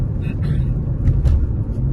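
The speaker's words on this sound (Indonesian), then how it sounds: "itu suara timbul itu sambungannya antar plat lantainya kurang mulus ya" Steady low road rumble from a car in motion on a long pile-slab bridge, with a few dull thumps as tyres cross uneven joints between deck slabs, fairly close and continuous.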